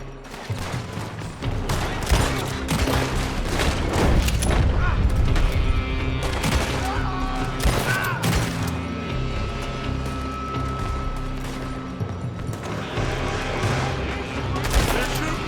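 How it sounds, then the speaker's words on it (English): Dense gunfire fills a Red Dead Redemption 2 shootout: rapid, overlapping rifle and pistol shots crack close and loud in continuous volleys, with heavier blasts mixed in throughout. "They're shooting from that building."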